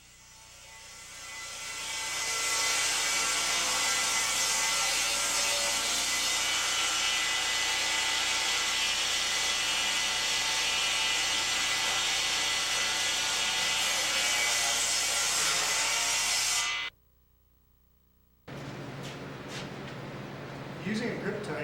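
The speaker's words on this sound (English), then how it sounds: "Go ahead and cut a piece of plexiglass." A table saw fitted with Grip Tite magnetic featherboards cuts through plexiglass: a loud, sustained high whine that ramps up, holds for about fifteen seconds, then stops abruptly, followed by a voice talking.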